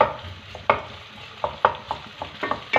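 Finely chopped onion sautés in hot oil, with a soft continuous sizzle punctuated by sharp spatula knocks and scrapes against the pan, close up and uneven in rhythm, no voices.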